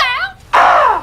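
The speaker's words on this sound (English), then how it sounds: "I'll admit I was torn which bird sound effect to put there, so I'll just play them all." Bird sound effects play back to back: a short whistled call with falling, layered tones, a brief pause, then a loud, harsh crow-like caw that fades out.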